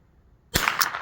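A single sharp crack from a Savage 135A .22 long rifle, fired once after a brief quiet moment and trailing off into a short ringing decay.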